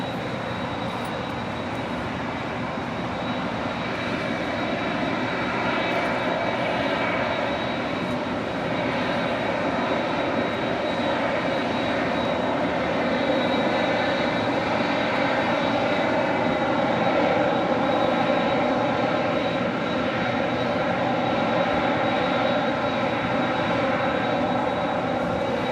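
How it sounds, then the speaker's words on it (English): Lufthansa four-engine quad jet airliner at Los Angeles International Airport, a loud steady engine roar that holds for the whole stretch with a slight swell in the second half, and no voices. "Lufthansa, king of the quad jets."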